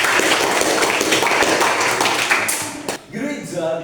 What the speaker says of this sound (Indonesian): Oke, tepuk tangan untuk kalian.